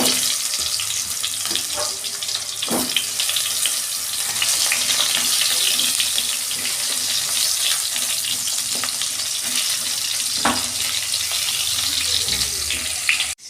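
Pointed gourds (potol) frying in hot oil in a kadai, a steady bright sizzle with brief splashy crackles and a couple of sharper pops, running continuously and close by.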